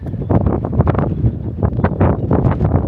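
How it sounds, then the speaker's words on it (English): Strong gusts of wind on a mountain buffet the microphone in a continuous low, blustery roar that rises and falls with each gust. "It's a bit windy though today."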